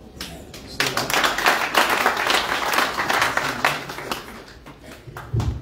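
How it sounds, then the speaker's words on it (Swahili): An audience at a Kenyan church memorial gathering applauds, a dense, sustained wash of many hands clapping that rises after a quiet start and holds steady and loud throughout, with no speech over it. "Asante, tumuongeze makofi."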